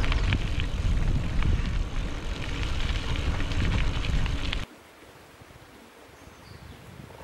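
A drone flies through woods in Yorkshire, its motors giving a loud, continuous droning buzz for several seconds before cutting off abruptly and leaving quiet outdoor background.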